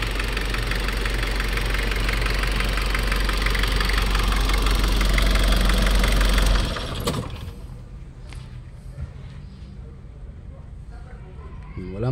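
Nissan Urvan van engine running after an engine block replacement, a loud close idling rumble with rhythmic mechanical knocking for about six seconds, then cut off, leaving quieter background noise and faint clicks.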